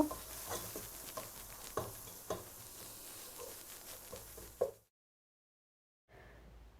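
Bay leaves and dry chilli powder are stirred with elephant apple (chalta) for a pickle, giving steady close scraping and soft sizzle-like rustle with regular tapping knocks for several seconds, then the sound stops abruptly into near silence.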